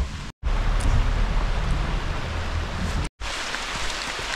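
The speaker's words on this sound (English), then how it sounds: "Alright, bit of rain I'm afraid." Heavy rain falling outdoors in the Yorkshire Dales, a steady, dense hiss of downpour close by that fills the whole stretch, broken by two brief silent gaps.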